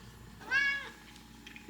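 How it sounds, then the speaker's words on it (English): A pet cat named Sigmund gives a single clear meow, rising and falling over about a third of a second, fairly close but soft against a quiet room. "you're a spoiled cat"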